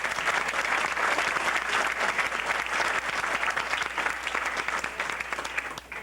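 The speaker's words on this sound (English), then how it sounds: "I think you all deserve like a round of applause for yourselves." Sustained, dense applause from a banquet audience at a 1993 Yorktown football celebration dinner, loud and steady throughout, easing only slightly near the end.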